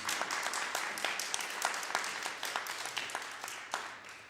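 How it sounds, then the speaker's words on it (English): An audience at a dance week event gives a round of applause for the audio visual crew, clapping that is moderately loud and continuous, with distinct individual claps pulsing through the crowd sound. "Please give them a round of applause."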